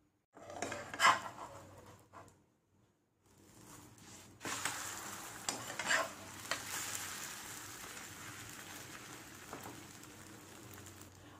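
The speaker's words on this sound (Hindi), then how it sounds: "तेल गरम हो चुका है, इसमें अंडा डाल देते हैं।" Egg sizzling and frying in hot oil in a pan, a soft steady crackle with a few sharper clinks and scrapes of utensils, louder after a brief quiet pause partway through.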